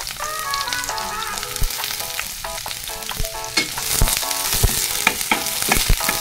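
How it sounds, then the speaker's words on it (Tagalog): Garlic and onion sauté in a hot pan for ground pork menudo, giving a steady close sizzle with sharp scraping knocks from stirring, set against background music. "Para mabango ang ating ginisa na bawang at saka sibuyas"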